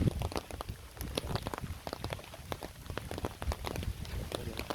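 Heavy rain pours onto a bypass road, a dense, steady patter of drops hitting the surface with irregular sharper splashes throughout, fairly quiet overall and with no voices.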